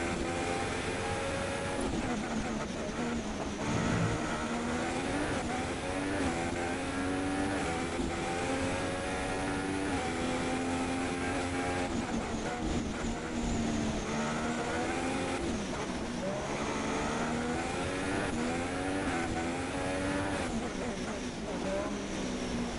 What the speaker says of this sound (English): Alright, 3 cars out, so let's ride with BWA Clyde